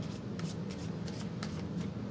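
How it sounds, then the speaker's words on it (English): Tarot cards, major arcana only, shuffled by hand at close range, a run of quick papery riffles and slides repeating in soft bursts without speech. "going to shuffle the cards a little bit"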